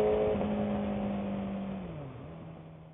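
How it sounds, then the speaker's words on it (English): A single car passes close by a motorcycle rider on a road during a night ride, its engine tone rising and then sliding down as it goes past and fades, heard alone without talk. "Damn cars, man."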